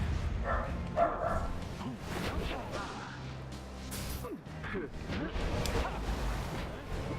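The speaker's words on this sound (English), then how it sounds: "dogs are starting to bark everywhere" Dogs bark in the video game Pyre, scattered yelps rising out of a dense, noisy game soundscape while a person talks over them.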